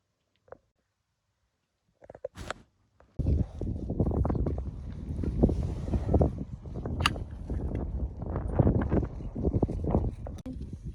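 Gusting wind buffeting the microphone in heavy low rumbles after a few quiet knocks, with occasional faint sounds in the mix.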